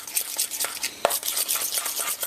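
Softened butter is stirred into a garlic paste in a bowl, a run of quick scraping, squelching strokes with an irregular rhythm and one sharper knock partway through, close and clear with no talking.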